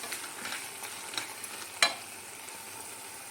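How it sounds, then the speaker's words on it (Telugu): Tomatoes frying until soft, giving a quiet, steady sizzle with a few soft stirring scrapes and one sharper clack of the spoon against the pan. "ఇలా మెత్తగా అయ్యే వరకు వేయించుకోవాలండి."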